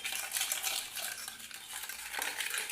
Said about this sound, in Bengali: চিনির সাথে ডিমটা মেশালে কী হবে একটা বেশ সুন্দর ফেনা ফেনা হয়ে যাবে